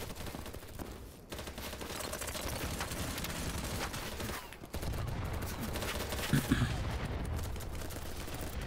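Dense, continuous gunfire from the Battlebit Remastered video game, loud overlapping rapid shots and bursts throughout with a brief lull, and a player's voice faintly audible underneath.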